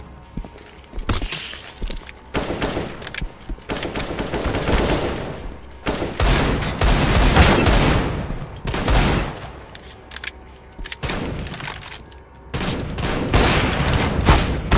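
CS:GO gunfire in a zombie outbreak mission: repeated bursts of automatic fire and single shots, loud and close, come in clusters separated by short quieter gaps.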